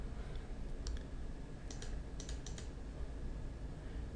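Computer mouse and keys clicking at a desk, a few light sharp clicks scattered over a steady background hiss, faint and close with no speech.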